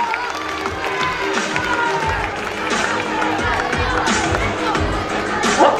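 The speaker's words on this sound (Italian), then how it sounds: "Un forte applauso alla NED Calcio e Passione." A crowd claps and cheers at the opening evening of a football tournament in Scalea, a dense, steady roar with broadband clapping and some voices mixed in throughout.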